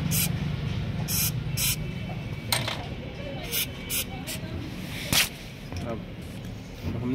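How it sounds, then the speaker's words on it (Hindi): Short bursts of liquid spray hiss onto a Royal Enfield 350cc motorcycle bearing during a repair, several quick close sprays separated by gaps, with workshop clatter and someone talking throughout. "अब बैरिंग पे डाल लें हम लिक्विड स्प्रे थोड़ी सी"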